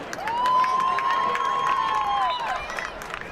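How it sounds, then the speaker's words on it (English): Soccer fans at a Cincinnati Dutch Lions versus West Virginia Chaos match cheer as substitute Kyle Grotehouse, number 15, enters the game: a steady wash of crowd noise with a long, clear whistle-like tone sounding over it. "Fans cheering Grotehouse's entrance"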